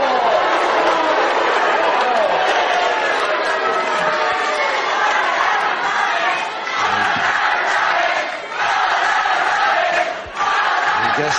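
A wrestling crowd in an arena cheers and shouts steadily as a British heavy middleweight bout begins, a dense roar of many voices that dips briefly twice.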